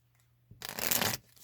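A Stellar Rainbow Oracle card deck gets a quick riffle shuffle, a short close burst of flapping cards lasting about half a second, with no talk.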